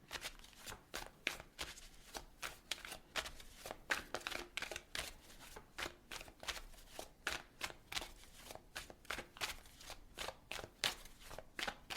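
Tarot cards being shuffled and pulled, a close run of crisp riffling slaps and soft card flicks repeating in a steady rhythm, with no talking over them.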